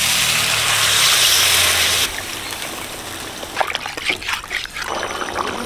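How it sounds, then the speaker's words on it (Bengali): Water pours with a steady splashing rush into a pan of spiced, fried rui fish for curry, loud and close for about two seconds, followed by quieter clinks and kitchen handling noises. "ঝোলের জন্য জল দিয়ে দিচ্ছি।"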